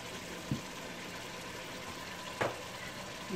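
Ground beef with chiles frying in a pan for beef enchiladas, a steady soft sizzle with a couple of brief clinks from stirring.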